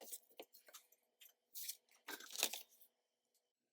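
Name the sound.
trimming paper with scissors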